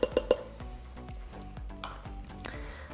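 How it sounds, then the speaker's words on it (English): Keto butter chicken with cream sautéing and being stirred in a pan: three quick metallic utensil knocks open, then a soft bubbling sizzle with rhythmic scraping strokes, close and quiet with no voices. "we're gonna mix it up really good and then just let it saute just to get a little bit thicker"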